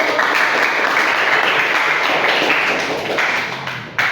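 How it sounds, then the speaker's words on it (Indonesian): A classroom of students applauds after a group presentation, loud close clapping from many hands that stays dense and steady before tapering slightly near the end, with no one speaking. "Baik, kita berikan tepuk tangan dulu."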